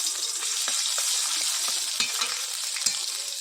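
Garlic paste frying in a hot wok, a loud, continuous close-up sizzle crackling with small spatters and occasional stirring scrapes.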